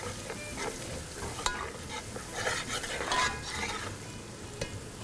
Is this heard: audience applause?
no